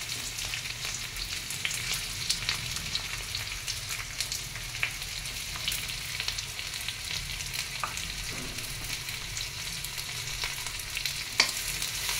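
Peppercorns, green chillies and chopped onion fry in hot oil for a green chilli chicken, producing a continuous close, crackling sizzle with small pops, heard alone without speech.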